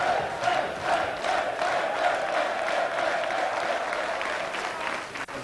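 A crowd at a strongman competition claps and cheers steadily as one dense, continuous wash of applause, with shouts rising from the mass of spectators.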